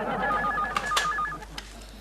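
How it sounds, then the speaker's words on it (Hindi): A telephone is dialed with a quick run of beeping tones, followed by faint clicks as the call connects, heard close in a Hindi TV sitcom. "मैं फोन करके बोलती हूँ केकू जी को"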